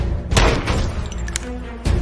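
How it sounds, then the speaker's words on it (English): Gunfire in an action movie: a sharp, loud blast near the start and another near the end, with a crashing, debris-like texture and tense low rumble in between, no voices. "That was definitely gunfire."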